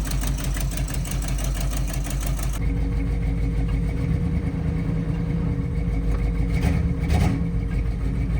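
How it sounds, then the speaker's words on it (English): Chevy square body truck found in a barn, its engine idling with an exhaust leak from the headers: a steady, loud, close rumble with no pauses, its tone shifting slightly partway through. "Definitely hear an exhaust leak on this side."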